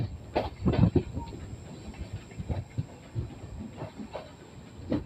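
Saharsa–Rajendra Nagar Terminal Intercity Express pulling into Mokama station, with rhythmic clattering and knocks of wheels over rail joints, moderately loud and uneven, heard from inside the train without talk.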